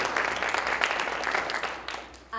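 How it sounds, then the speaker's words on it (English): An audience applauds a newly announced $46 million scholarship fund for Black and Latino people entering tech, steady clapping filling the room for about two seconds before it trails off. "I think that deserves a round of applause"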